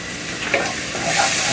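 Fresh minced garlic tossed and stirred in a soup pot for chicken tortilla soup, giving a soft continuous sizzle with light scraping, fairly quiet and brief, no voices.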